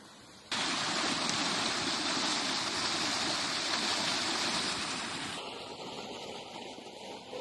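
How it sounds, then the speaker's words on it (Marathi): Steady rushing water flowing in a canal that carries water year-round, near farm plots and rice fields in Karjat with mountain views; a loud, constant broadband wash that eases slightly toward the end, with no talk. "कॅनल बघू शकता. कॅनलला 12 महिने पाणी असतं."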